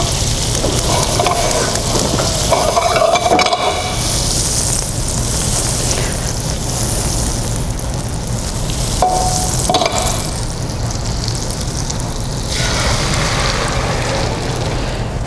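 Swiss chard and leeks frying in butter in a hot pan with eggs, a steady close sizzle and crackle running throughout with occasional stirring scrapes, no voices.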